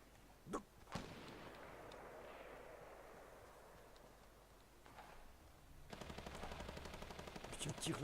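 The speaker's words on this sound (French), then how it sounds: "Oh, il y a un sniper, il a tiré." A sniper rifle shot in the Fortnite video game cracks sharply near the start, followed by a second shot, then a stretch of quieter game ambience and a busier noisy burst at the end.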